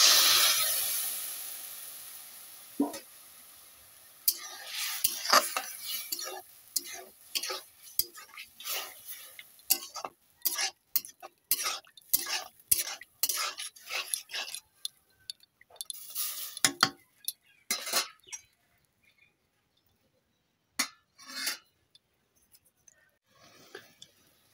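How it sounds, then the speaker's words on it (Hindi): Dal is tipped onto fried masala in a pan for a low-oil jhingni dal sabzi, with repeated loud metal spoon clinks and scrapes against the pan in irregular bursts, fading to quieter stirring. "तो इस पे डाल दे रही हूँ मैं ये दाल।"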